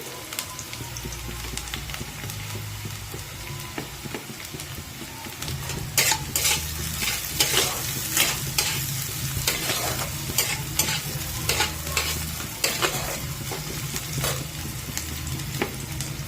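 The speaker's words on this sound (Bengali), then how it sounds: "এবার রসুন কুচি দিয়ে দিচ্ছি" Chopped garlic sizzles steadily in hot oil in a pan while vegetable chops are being made, with a spoon stirring and scraping now and then; the frying is close and continuous, with no talking.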